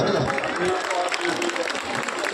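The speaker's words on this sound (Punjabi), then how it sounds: "ਜ਼ੋਰਦਾਰ ਤਾੜੀਆਂ ਪੈਣ" Sustained crowd clapping at a village Teeyan fair, a thick wash of hands mixed with some voices, continuous and loud through the whole stretch.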